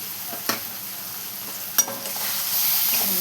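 Green chili and ground paste dropped into browned onion and tomato frying in a pan, a low sizzle with a couple of sharp utensil clinks and stirring, close and without speech.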